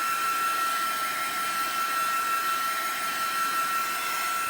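A dryer blows steadily to dry a craft project set on a glue book over a plastic mat, giving a continuous close, even whoosh with a faint high whine and no speech.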